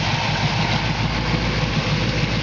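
A 1972 Chevrolet Camaro with a freshly rebuilt engine idles in a loud, steady, low rumble up close, with no voices over it.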